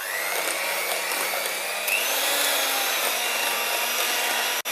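An electric mixer beats egg yolks into lemon cake batter with a steady, close whirring drone whose pitch dips and rises slightly as it works, ending in a brief stop, with no talking.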